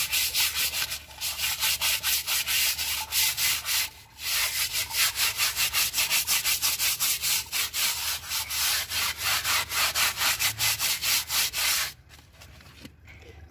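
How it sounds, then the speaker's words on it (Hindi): An AC filter scrubbed with a brush and detergent powder gives a steady, close, rhythmic rasp of bristle strokes that runs almost unbroken, with one short pause, then drops away near the end. "अब हम लोग इस पर हल्का सा सर्फ लेंगे और ब्रश के साथ हल्का सा रब करेंगे।"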